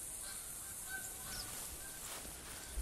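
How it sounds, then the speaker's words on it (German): Canada geese honking in the hunting video game The Hunter, several faint, distant calls from a flock overhead over a steady wind-like hiss, no voices. "da ziehen schon wieder zwei Gänse"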